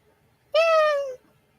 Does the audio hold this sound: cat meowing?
yes